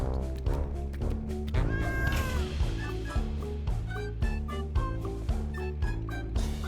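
A cat meows repeatedly and clearly up close, its cries rising and falling over a steady rhythmic background.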